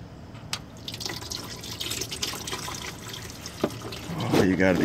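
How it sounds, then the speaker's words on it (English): Motor oil drains from a car being readied for a track day, a steady trickling splash into a pan under background noise, with drips and a brief gurgle near the end. "I got both of them broken loose, so time to go ahead and drain this"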